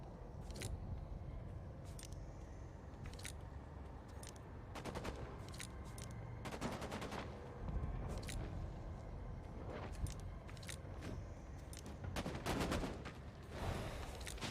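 Machine gun fire in a PS5 shooter game rattles in scattered quick bursts and sharp single cracks, fairly faint over a constant low background hum.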